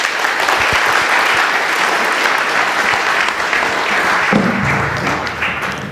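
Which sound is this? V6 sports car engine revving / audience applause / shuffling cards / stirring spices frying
audience applause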